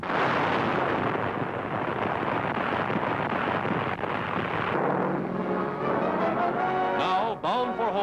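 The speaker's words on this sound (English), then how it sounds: "bombs are on their mark, and the freighter is crippled by the explosion" Bombs burst on a freighter in a WWII newsreel, a continuous heavy roar of blasts and rumbling debris that later gives way to someone narrating over fading noise.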